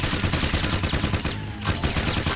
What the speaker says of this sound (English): the machine gun just does nothing on him